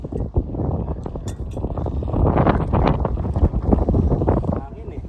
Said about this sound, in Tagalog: Hangin eh. Kaya hanginin.